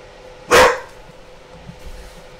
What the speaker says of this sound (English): There's my dog in the background for you guys to hear barking